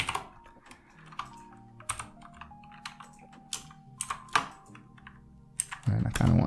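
A Linux terminal command is typed on a computer keyboard: close, crisp key clicks in irregular bursts with brief pauses, ending in a quick flurry of strokes.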